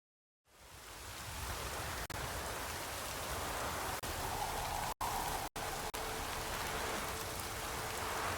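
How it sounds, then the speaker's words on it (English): Heavy rain pours down in The Witcher 3, a steady, dense hiss of falling water that fades in and then holds, broken by a few abrupt dropouts. "This downpour's a bastard"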